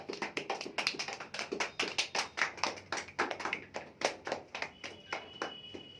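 Several people clapping at a home cake cutting, a fairly quiet but steady run of rhythmic claps, close by and without talk.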